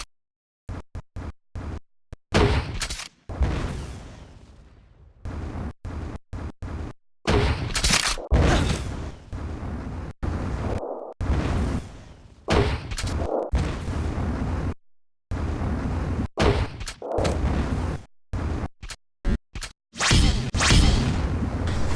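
Grenade blasts repeat again and again in a video game during stationary nade jumping, each one a loud, close burst with a whooshing tail, broken by short silences.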